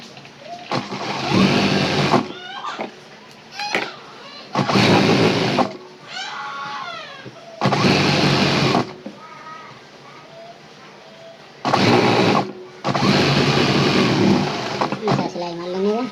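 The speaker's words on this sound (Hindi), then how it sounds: "सिलाई मार लेंगे" A sewing machine stitches ladies' pants in short loud motor bursts of a second or two, repeated several times, with a person talking in the pauses between runs.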